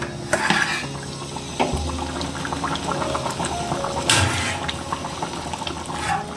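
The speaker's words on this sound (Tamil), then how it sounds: "இப்போ குழம்பு நல்லா கொதிச்சு வந்திருக்கு" A pot of fish curry bubbles and simmers with a steady stream of small pops and gurgles, close by, with a couple of faint clicks and knocks.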